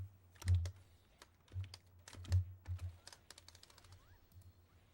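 Typing on a computer keyboard during a Street Fighter 6 session: scattered close key clicks in short bursts with a low hum underneath, some strokes heavier than others, no talk.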